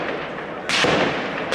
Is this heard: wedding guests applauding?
no